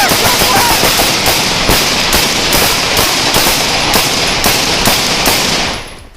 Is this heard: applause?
no